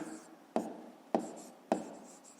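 Numbers are written by hand in a quiet room. Three sharp pen taps land at even intervals, each followed by a soft scratching stroke.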